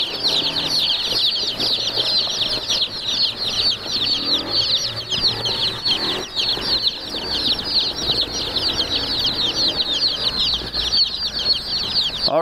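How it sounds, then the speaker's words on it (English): Around a hundred meat chicken chicks chirp in a dense, continuous high-pitched chorus, with flapping and shuffling and a brief voice near the end. "All right, you guys, we've got our chicks. We've got about 100 of them in here."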